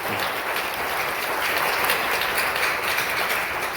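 Congregation applause during a church service, a thick, steady burst of many people clapping together, loud and unbroken throughout.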